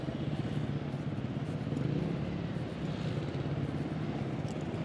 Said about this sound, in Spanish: Veo gente llegar aquí con motos de enduro